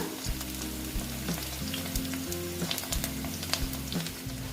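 Steady frying crackle of potatoes in a pan, with low tonal music or hum running underneath throughout.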